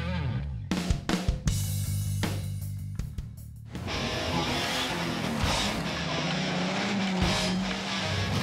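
Race cars roaring around a dug-out stadium racing track inside a speedway at night, with sharp bursts and passes early giving way to a loud, continuous engine drone.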